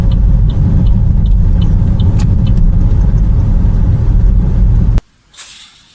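A car engine drones loud and steady, its revolutions climbing under a constant low rumble, then the sound cuts off abruptly near the end, leaving a faint hiss.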